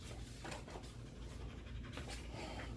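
Rapid, rhythmic panting from dogs in a workshop goes on steadily, close by, with quick breathy huffs and a faint background hum.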